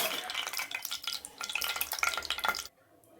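Mustard seeds, cumin, chana dal and urad dal crackle and sizzle loudly in hot oil for drumstick leaf sambar, with stirring scrapes in the pan, before the sound cuts off abruptly.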